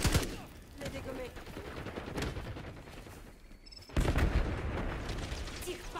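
Video-game gunfire on the Nuketown map in Black Ops 6: dense bursts of automatic rifle fire and scattered shots throughout, dipping mid-clip and surging loudly again near the end, with a voice speaking over the fighting.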